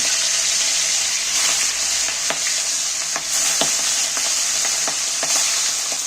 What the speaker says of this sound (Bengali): আমি মাছগুলো একটু হালকা করে ভেজে নিচ্ছি